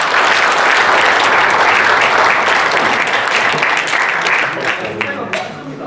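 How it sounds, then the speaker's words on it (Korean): Sustained, dense applause fills the room at a Korean army officers' security forum ceremony, loud and steady before thinning into scattered claps at the end, with voices mixed in. "큰 박수 부탁드립니다."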